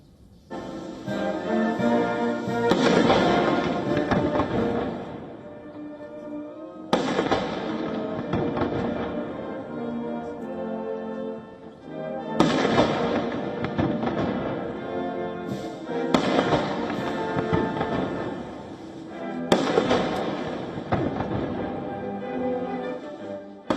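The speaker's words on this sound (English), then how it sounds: "Trump alongside Xi inspected military honor guards and received a 21-gun salute." Ceremonial cannons fire a 21-gun salute at a military welcome ceremony with honor guards: heavy, distant booms that roll and echo, spaced about five seconds apart, each fading slowly before the next.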